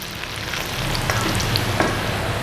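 Spices sautéing in a pan for a budget halal teriyaki sauce, a steady close sizzle with light stirring scrapes throughout and no talk.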